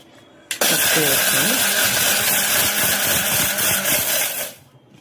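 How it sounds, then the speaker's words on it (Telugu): A kitchen mixer grinder starts abruptly and grinds roasted garam masala spices with a loud, steady motor whine for about four seconds, then stops. "మిక్సీ వేసుకుందాం ఫ్రెండ్స్"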